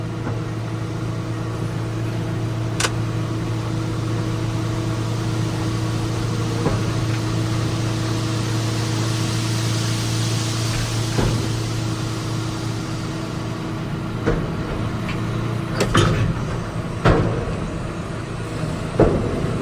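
Grain pours steadily from a tipping trailer backed into a pile in a shed during harvest, a continuous hissing rush over a droning tractor engine hum, with a few sharp knocks near the end.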